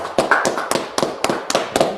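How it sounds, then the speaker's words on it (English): A small group claps in a steady rhythm, about one sharp hand clap every quarter second, close and fairly loud, with faint background sounds between the claps. "let's clap it up"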